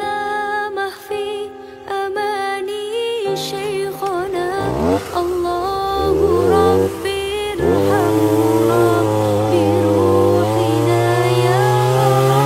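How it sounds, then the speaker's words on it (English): A chainsaw cutting into a huge, thick-walled pumpkin, loud and close, its motor revving up and down with rising and falling pitch before settling into a sustained high whine. "we are cutting a pumpkin the right way with the chainsaw"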